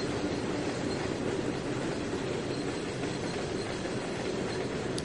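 A long freight train rolls out of a rail yard in the Trainz 2019 railway simulator, giving a steady, dense rumble of wheels and cars that holds evenly throughout, with no talking.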